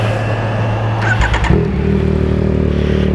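A Yamaha XSR 900 motorcycle fitted with a resonator exhaust idles loud and close, giving a deep steady rumble, then blips the throttle in a short burst of revs before settling back to idle.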